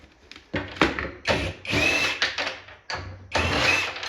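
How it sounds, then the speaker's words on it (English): A power drill whirs in a series of short bursts while removing angle brackets from inside a pinball cabinet, with several loud runs separated by brief pauses, close up and with no talking. "I'll get my drill to make this a little bit quicker"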